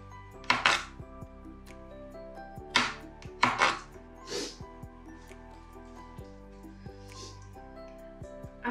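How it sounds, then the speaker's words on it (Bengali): Knife chopping onion stalks into chunks on a board, a handful of sharp, close thuds in uneven bursts with quiet gaps between, no talking. "পেঁয়াজের কলি ভাজি করার জন্য আমি একটু এরকম গোটা গোটা করেই কাটি"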